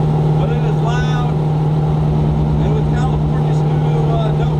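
A loud, rough-idling 1967 Ford Mustang engine with an aggressive cam, driving with a steady low drone and uneven lope throughout, with a person talking over it.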